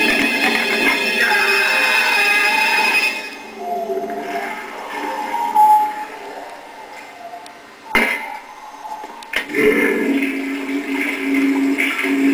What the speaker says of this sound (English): double flusher.